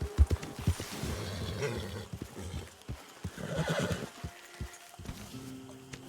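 A horse in the video game Red Dead Redemption 2 whinnies loudly, with hoofbeats clopping in quick, uneven rhythm around the calls and a second neigh partway through.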